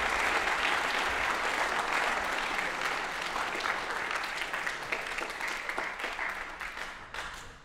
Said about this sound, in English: give them a round of applause for working on that